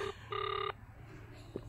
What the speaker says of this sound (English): People don't like answering phone calls on Mondays.